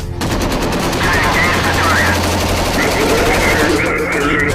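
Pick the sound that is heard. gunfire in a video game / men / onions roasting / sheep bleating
gunfire in a video game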